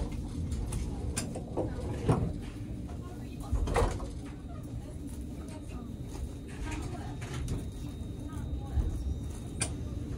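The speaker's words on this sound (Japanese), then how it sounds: "閉まるドアにご注意ください。" Doors of a JR Kyushu 787-series limited express train slide and shut with a dull thump amid busy platform noise at Hakata station, with voices talking in the background.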